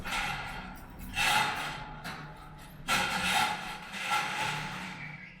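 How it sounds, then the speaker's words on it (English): Repeated metallic clanks and scraping rattles of turnstiles rotating as pedestrians pass through the San Ysidro border crossing from the U.S. into Mexico, with faint crowd noise in the background. "That's the sound of people moving through the turnstiles at the San Isidro crossing from the U.S."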